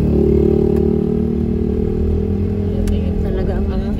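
Steady road traffic during the Christmas season in Gen Trias, with engines idling and revving nearby, a motorcycle among them, forming a constant loud rumble with faint clatter over it.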